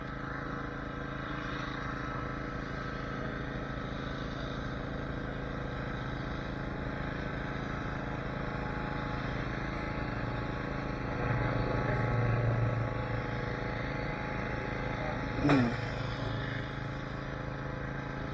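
A boat engine idles and drones steadily while anglers fish for snakehead, a continuous low hum with a slight swell near the end and a brief knock, no speech.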